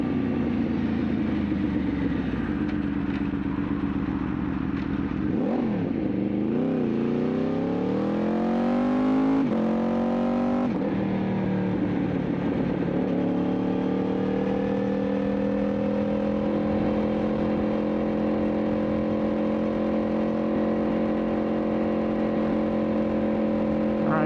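Engine of a BMW M2 xDrive with a Stage 1 tune drones steadily inside the cabin on light throttle, its pitch rising and falling with a couple of gear changes before settling into a smooth, even cruise hum.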